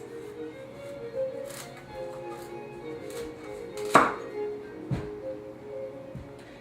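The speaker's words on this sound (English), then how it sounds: "Cut your butternuts into thirds." A knife chops through dense butternut squash on a dish towel in a few hard strokes, with one loud crunching cut standing out among lighter knocks on the board.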